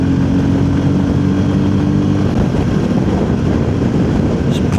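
A VOGE 300 Rally motorcycle engine holds a steady, buzzy drone, loud and close, with the pitch shifting slightly midway, under riding wind noise and with no talk.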